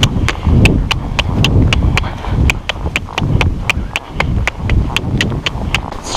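Hooves of a horse in a sitting trot ring out in a steady, brisk two-beat clip-clop, close and loud, over a continuous rumble from the moving rider.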